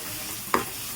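Red amaranth greens stir-fried with prawns in a pan give off a steady close sizzle, with one brief scraping stir near the middle.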